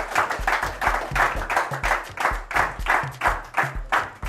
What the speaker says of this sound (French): Les amis, on applaudit très fort.